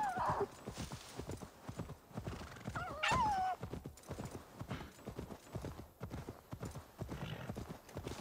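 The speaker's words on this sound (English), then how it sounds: "We'll take the horse, go a little faster." Horse hooves clip-clopping at a quick pace in the video game Assassin's Creed Valhalla, with a neigh partway through, while someone talks over the steady rhythm.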